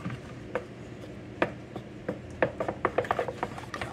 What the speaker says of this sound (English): So I'm gonna take and mix this up.